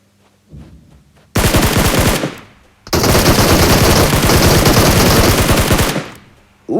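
Rapid automatic gunfire in a video game from a killer-clown shooter, two loud sustained bursts separated by a short gap, close and dense, with no talk over them.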